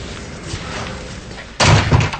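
A front door slams shut with a loud, close thud that follows a stretch of muffled indoor room noise.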